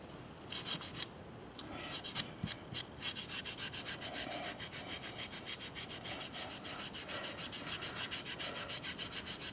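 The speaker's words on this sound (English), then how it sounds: "I did a whole bunch of sanding on that." Hand-sanding a fossil echinoid (Scutillaster major), a quiet, continuous rhythmic rasping scrub of abrasive strokes back and forth, close up with no talking.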